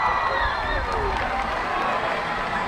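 A crowd cheers and roars at a high school football game between Gross Catholic and Beatrice, a steady dense wash of voices heard from a distance with no single voice standing out.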